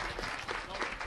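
An audience claps steadily for student award winners at a village board meeting in a hall, a dense continuous patter of many hands.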